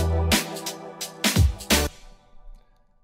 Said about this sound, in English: It's just a really cool preset if you play any kind of dissonant unresolved chord.